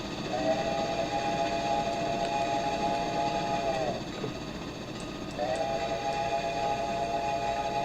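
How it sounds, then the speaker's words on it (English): Steam locomotive engine and whistle from a railroad video game: a long sustained multi-tone whistle blast, a brief pause, then a second whistle, over a steady chuffing engine rumble. "I don't think she likes the sound of steam engines."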